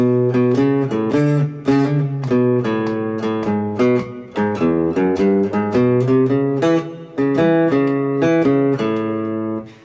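A plucked guitar runs through a 12-bar blues turnaround phrase, steady and upfront, with quick repeated notes and chords ringing out alone.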